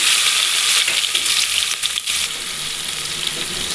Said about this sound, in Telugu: ఇప్పుడు కట్ చేసి పెట్టుకున్న ఆనియన్స్ని వేసుకోండి